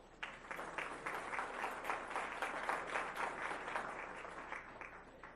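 Audience at a school board meeting applauding school counseling presenters, a steady, moderately distant round of clapping lasting several seconds.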